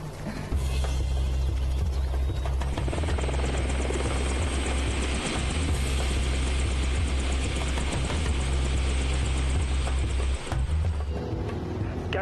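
A helicopter in flight gives a loud, close, continuous rotor thrum with a deep low-end throb that holds steady for about twelve seconds, heard alone.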